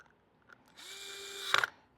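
An electric Phillips screwdriver tightens a screw on a Kydex holster clip with one short, steady, close whine of under a second that ends in a quick clatter as the screw seats.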